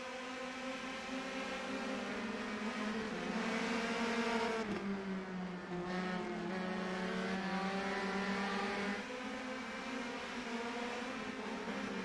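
Race cars in a racing video game at the Italian Grand Prix drone with sustained high engine whine as a pack bunches together, pitch rising and dipping as they jostle, steady and fairly quiet throughout.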